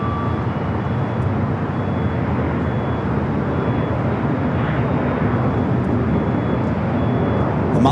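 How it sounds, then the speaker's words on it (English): An Air France Boeing 777-300ER takes off at Los Angeles International Airport, a broad, steady jet-engine roar that holds loud and even throughout. "Got Air France 777-300ER heading back to Paris, heading up for north side at takeoff."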